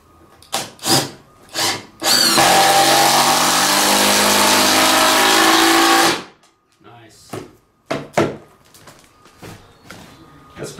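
A power drill drives screws into timber floorboards in a 300-year-old home, running as one loud, steady whir for about four seconds. Short bursts of speech come before and after it.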